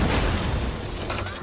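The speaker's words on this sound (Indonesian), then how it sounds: "Di dalam, sebuah bom meledak." A bomb goes off inside a building in a film scene, a brief, loud blast with a rough, rumbling burst that fades slightly over about a second and a half.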